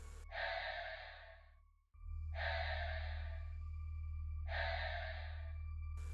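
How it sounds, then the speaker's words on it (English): Slow, heavy, exhausted breathing in a horror story, heard as three long drawn-out breaths spaced a couple of seconds apart over a steady low rumbling drone, close and alone with no talk. "Slow, heavy, exhausted, like something that had walked a very long way."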